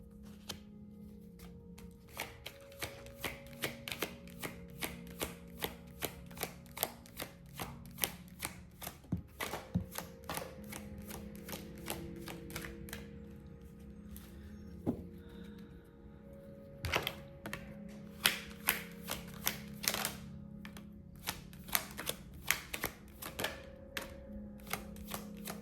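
Oracle cards being shuffled by hand, a long run of crisp, rapid riffling and slapping card sounds in repeated bursts, close and clear over a steady low hum, with no talking.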